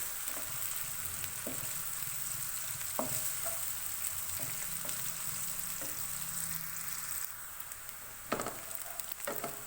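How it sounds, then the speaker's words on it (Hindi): Onions sizzle lightly in a pan, a steady frying hiss broken by occasional utensil taps and clatters, heard without any talking. "प्याज को हम हल्का सा फ्राई करेंगे।"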